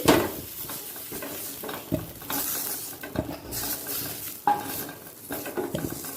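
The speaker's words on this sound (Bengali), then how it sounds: "চা চামচের প্রায় চার ভাগের এক ভাগ ঘি দিয়ে আলুটাকে একটু ভেজে নেব" Potato frying in a small amount of ghee in a pan, a soft sizzle under frequent stirring scrapes and metal utensil clinks, close and moderate in level, no talk.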